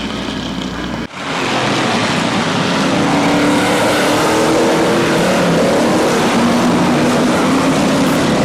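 Race cars roar around a local short oval at Barberton Speedway, a dense, loud wall of engine noise that swells right after a brief dip and then sustains continuously.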